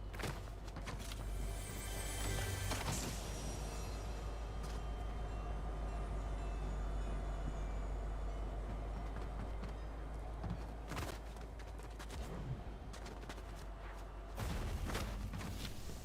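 A train in the video game Fortnite rolls along with a steady, low rumble and rhythmic clatter of wheels on track, fairly quiet and continuous, with a few sharp knocks and no talking.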